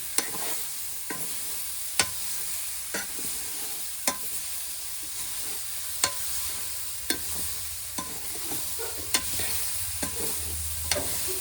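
Chillies sizzle in a pan with a soft, continuous fry hiss, broken roughly every second by sharp scraping taps of a spoon stirring them. Close and fairly quiet, with no voices.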